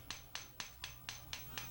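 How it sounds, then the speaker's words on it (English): Broad-faced hammer striking copper sheet to texture it, seven sharp metallic taps at an even, steady rhythm, close and moderately loud over a low background hum. "Whether it's using a different hammer or hammering against a different surface."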